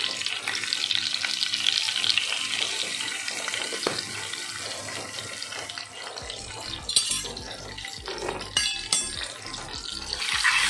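Cumin seeds and asafoetida splutter in hot oil for a bhindi fry, giving a continuous hissing sizzle with crackles, then clinks of a spoon stirring toward the end.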